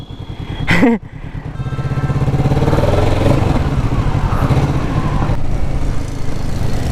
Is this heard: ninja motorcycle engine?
yes